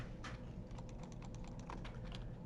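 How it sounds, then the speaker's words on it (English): Keys clatter on a computer keyboard as data is entered into a spreadsheet, a quick, faint run of taps close by over a low steady room hum. "Let's just type in the data so that we've got that available."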